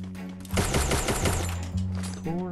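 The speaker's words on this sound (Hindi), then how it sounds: "मेरे को तो पूरा अजीब सा लग रहा है गन चलाने में" Shield gun bursts in the Free Fire video game, a loud rapid volley of gunshots over a steady game hum, firing for about a second before a tonal game sound returns.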